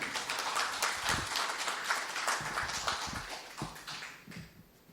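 A seminar audience claps steadily in a dense wash of applause welcoming an opening speaker, gradually thinning and fading toward the end.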